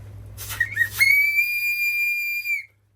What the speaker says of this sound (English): we have a whistle to contact everybody.